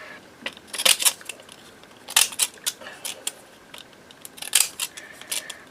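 Scissors snip around a cut-out of the Celandine Fairy on card for a forest fairy journal, sharp crisp cuts coming in small bursts, close and clear, with quiet pauses between them.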